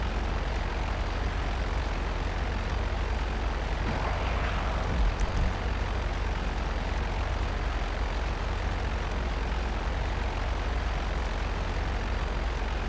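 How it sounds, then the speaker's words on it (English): A Raiju plane flies in GTA Online, its engine a constant loud roar held steady throughout, with a short swelling whoosh partway through and thin high tones flickering above. "I mainly use the Raiju as a utility plane."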